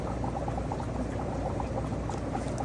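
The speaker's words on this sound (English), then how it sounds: "See the water going out?" Water drains out of a fish room tank water system with a steady, close bubbling gurgle that holds at an even level throughout, with no talking.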